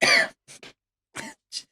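A person coughs in several short bursts, one long harsh cough followed by a few quicker, fainter coughs with silent gaps between them, close and alone.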